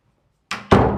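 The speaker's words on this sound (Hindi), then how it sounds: "बंद कर दो दरवाजा" A door is pushed shut indoors, a soft first knock followed quickly by a louder, heavier slam that rings briefly.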